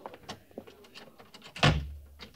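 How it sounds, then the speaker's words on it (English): A door swings shut with one solid, close thud in a western radio drama, following a few faint movement sounds. "close the door"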